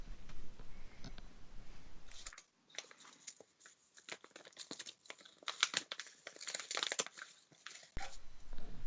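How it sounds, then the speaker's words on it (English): Loud computer keyboard typing: a rapid, dense run of sharp clicks and clacks heard through a narrow, band-limited channel like a live voice call, with no talk over it. "he's got the loudest keyboard, hasn't he?"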